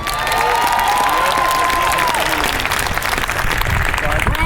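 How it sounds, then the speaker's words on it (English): Audience applause with some cheering fills a hall after a speech on addiction, loud and continuous throughout, with a faint voice rising above the crowd early on. "deserves a round of applause"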